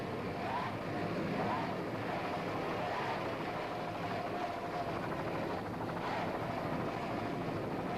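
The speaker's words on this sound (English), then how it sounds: "Terry Hill doing a fine job on the throttling" Engines of a 31-foot Conquest catamaran race boat drone steadily from a distance, their pitch rising and falling slightly as the throttle changes, with no voices heard.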